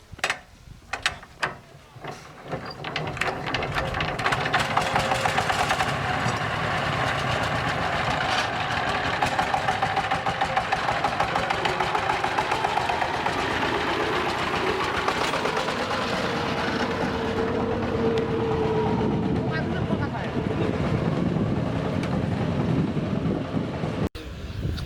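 A heavy sugarcane tractor engine runs loudly and continuously nearby, a rumbling mechanical drone mixed with clanking and grinding, after a few sharp knocks at the start.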